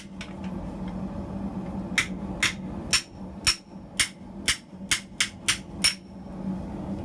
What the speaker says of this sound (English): I'll hammer on it again and see.